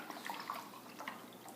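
A mixed drink of Hawaiian Punch and lemonade is poured at a fast-food mukbang table, giving a soft, close trickle of liquid with light splashes that is fairly faint and carries no speech.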